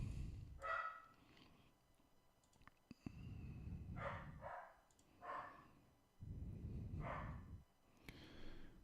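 A dog barking indoors after someone came to the door, four or five short muffled barks with pauses between them, fairly faint and in the background.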